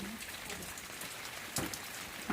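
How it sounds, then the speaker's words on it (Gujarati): Steady rain patters on a surface in a village garden with marigolds, a soft continuous hiss with a couple of louder drops or taps near the end. "કેટલો અંધારેલો વરસાદ છે"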